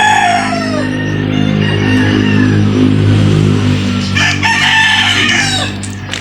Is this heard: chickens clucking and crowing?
yes